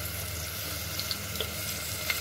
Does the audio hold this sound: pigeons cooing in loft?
no